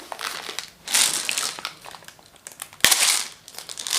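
Sturdy plastic packaging of an air freshener absorber is pried open with close, loud crinkling and crushing bursts, then a sharp crack near the end followed by more rustling.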